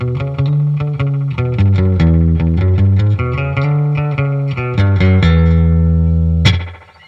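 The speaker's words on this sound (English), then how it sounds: "using a PT2399 delay chip to help fill out the reverb sound a little and add a little bit of pre-delay, giving us a nice surfy slapback kind of sound" An electric guitar plays a melodic line through a spring reverb pedal with PT2399 delay, giving a surfy slapback sound, loud and sustained, ending in a splashy spring crash.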